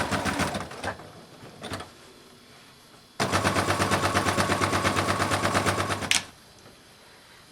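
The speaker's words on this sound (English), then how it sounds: "I'm going to stitch on and then back off." A sewing machine fitted with a heavy duty needle runs in short bursts, then in a steady rapid rhythmic stitching run of about three seconds along an apron seam before stopping abruptly.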